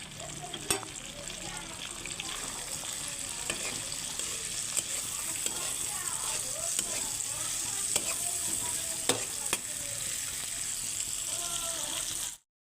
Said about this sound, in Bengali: এবারে দিয়ে দিচ্ছি পেঁয়াজ কুচি পেঁয়াজগুলোকে একবারে লাল লাল করে ভাজতে হবে